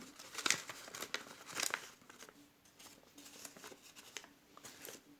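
A folded paper origami box is pulled open, giving close, quiet crinkling and crackling with two sharper bursts near the start, then softer rustling.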